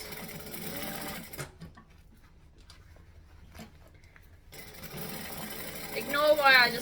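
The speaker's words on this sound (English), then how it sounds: "Ignore why I just backstitched then." Domestic sewing machine stitching fabric for a sewing tutorial, running in steady whirring bursts with a pause in the middle while a brief backstitch is made, then resuming. A voice talks over the motor near the end.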